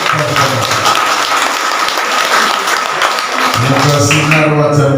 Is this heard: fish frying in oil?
no